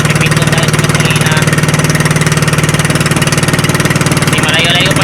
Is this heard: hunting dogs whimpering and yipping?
no